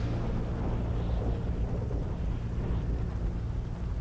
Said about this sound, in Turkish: Çok yağmur yağıyor ya.